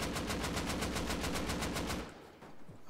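Automatic fire with explosive ammo aimed at a door in the survival game Rust: a fast, even string of about a dozen loud reports rattling for two seconds, then abruptly stopping into quiet.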